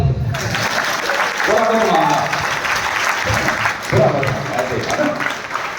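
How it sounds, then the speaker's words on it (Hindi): Seminar attendees at a success training session clap together in a loud, dense burst that swells and continues, with a voice speaking over the applause at points. "तो हम बजवाएंगे, बजाओ ताली"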